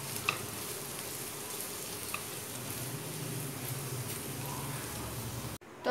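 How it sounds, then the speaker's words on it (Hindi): Cabbage fries in a pan for fried rice, giving a continuous, fairly soft sizzle with faint crackles throughout before cutting off abruptly at the end. "इसे अच्छे तरीके से फ्राई कर लूँगी।"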